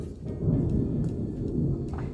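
Thunder rumbling through a thunderstorm outdoors, a deep low rolling roar that swells and sustains for a couple of seconds with faint rain-like hiss and no voices.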